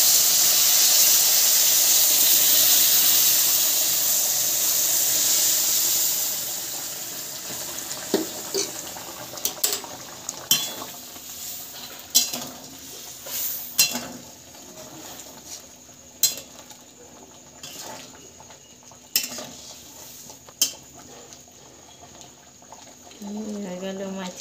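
Boiled masoor dal with turmeric and green chilli is poured into a fish-head masala. A loud steamy hiss rushes up first, then fades into a quieter simmer with scattered metallic clinks and scrapes of a spoon stirring the pot.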